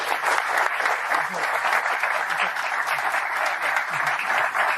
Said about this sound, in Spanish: Lo presentamos con un fuerte aplauso.